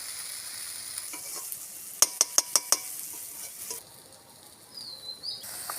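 Chicken meat goes into hot oil in a pan, raising a steady sizzle. A quick run of about five sharp metallic taps breaks in midway, then the frying hiss continues more quietly.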